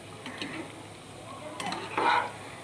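Palm fruit fritters made with semolina bubbling in hot oil, a quiet steady sizzle with a few clinks and scrapes of a utensil in the pan.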